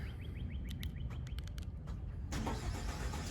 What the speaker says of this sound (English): remote start the truck